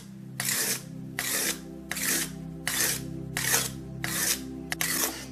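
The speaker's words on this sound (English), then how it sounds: "I'm using water, so I'm going to sharpen my knife." A left-handed knife is sharpened on a wet water stone with repeated rhythmic scraping strokes, about seven evenly spaced passes, close and clear over a faint background hum.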